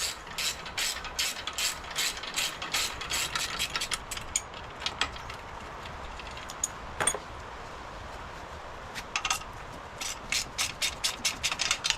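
A ratchet clicks in quick repeated bursts as bolts come off a Cub Cadet engine, with short pauses between runs of close, crisp pawl ticks.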